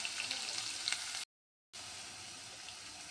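Crushed garlic fries in a pan with a steady, bright sizzle and spitting crackle, briefly cut to silence before the hiss continues at the same even level.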